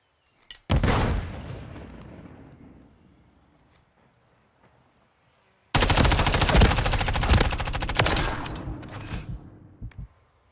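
Gunfire in a Modern Warfare 3 Search and Destroy match: one loud shot with a long decaying tail, a pause, then a dense stretch of rapid automatic bursts and crackling shots near the listener.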